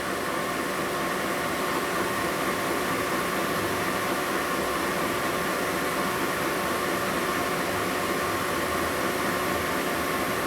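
Boring cut on a 1990s Harley-Davidson Evo Sportster motor case being machined out for a 90ci big-bore lower end, a steady, loud broadband machine roar that holds unbroken throughout with no voices.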